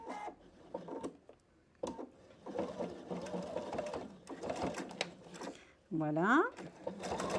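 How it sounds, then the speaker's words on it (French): A PFAFF Expression 720 sewing machine stitches a seam in a short whirring burst near the end, with someone speaking before and around it. "Et je vais faire une couture dans ce sens-là, en prenant bien la petite queue de rat ici en couture."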